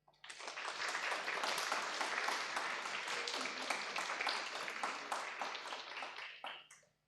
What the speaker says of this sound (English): I think that itself deserves a round of applause.